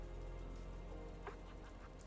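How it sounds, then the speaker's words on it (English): Rain in a video game, a soft continuous patter very faint under a low hum, with a few brief chirpy sounds over it and no voices. "It's raining"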